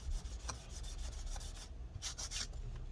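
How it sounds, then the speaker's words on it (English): Cloth soaked in rubbing alcohol wiping adhesive residue from inside a 13-inch Mid 2017 MacBook Pro A1708 during battery and trackpad replacement, a close, steady series of soft rubbing strokes with no talking. "More rubbing alcohol and continue wiping this."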